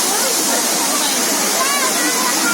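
A waterfall roars in a steady, loud, dense wash of water close by, unbroken and with no other sounds standing out.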